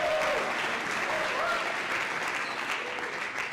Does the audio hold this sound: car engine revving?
no